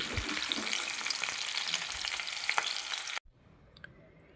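Dense, crackling sizzle of papaya and potato frying in hot oil, loud and close, then it cuts off abruptly to near quiet for the last second.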